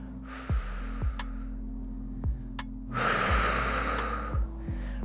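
Breathing in and out during a seated resistance band workout, with several short sharp inhales and exhales and one longer breathy exhale standing out over a steady low hum.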